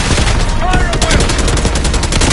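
Dense, continuous gunfire from a Call of Duty Black Ops 6 battle, rapid overlapping automatic bursts and shots filling the whole stretch loudly, with a faint voice underneath.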